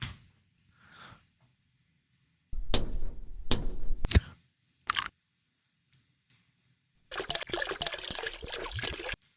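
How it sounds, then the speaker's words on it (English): Water drop sound effects auditioned for a game: a few separate sharp splashy drips and plinks with gaps between them, then a burst of dense trickling water near the end, all close and fairly loud. "look for water drop. Water drop."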